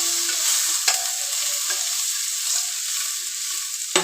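Crushed garlic fries in a pan over a medium gas flame, a close, even sizzle broken by a few sharp clinks of a spoon against the pan.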